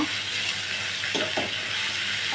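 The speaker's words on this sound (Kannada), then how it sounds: "ಚೆನ್ನಾಗಿ ಫ್ರೈ ಆಗಬೇಕು ಈರುಳ್ಳಿ" Onions for a simple onion palya fry in a pan, giving a continuous even hiss of sizzling oil with a few faint stirring clicks, close and fairly loud with no talking.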